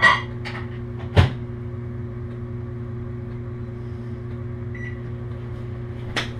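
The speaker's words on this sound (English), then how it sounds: "So I'm gonna throw this in the microwave, melt this up so we can use this." A microwave oven runs melting chocolate, a steady close hum with a low drone, a loud clunk early on and another faint knock at the end.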